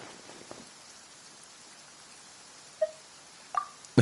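Steady soft rainfall patters on surfaces in the Genshin Impact video game, a faint continuous hiss with a few brighter droplet-like plinks near the end and no voices.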